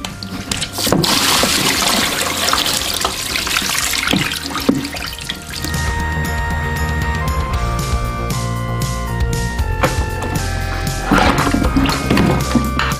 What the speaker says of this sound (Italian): dal primo tubo che vedete, quello là in alto, siccome è il tubo di mandata, uscirà sicuramente un po' d'acqua imprigionata all'interno della valvola di non ritorno